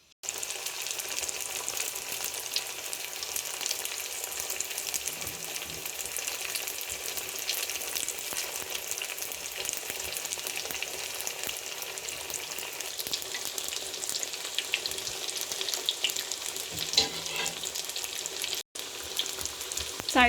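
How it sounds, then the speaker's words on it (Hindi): Vegetable cheese samosas deep-frying in hot oil make a dense, steady bubbling sizzle that carries on evenly at close range, broken by a brief dropout near the end. "अब हम इनको फ्राई कर लेते हैं।"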